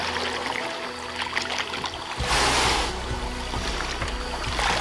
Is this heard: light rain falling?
no